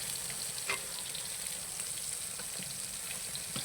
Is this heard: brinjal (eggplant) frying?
yes